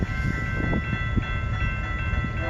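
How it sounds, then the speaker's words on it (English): CN M397 westbound mixed freight train entering Port Huron, Michigan, with a steady, close rumble of rolling cars and a constant tonal hum running throughout, no voices. "Here comes CN westbound train, Port Huron, Michigan"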